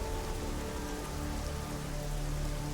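Steady rain falling in the video game Deus Ex: Mankind Divided, a dense continuous hiss of drops on surfaces with a low rumbling bed, even and unbroken, no voices.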